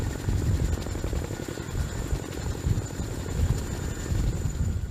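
A Chinook CH-47 tandem-rotor helicopter drones with a deep, throbbing rotor beat and a steady high engine whine, loud and continuous as if close by.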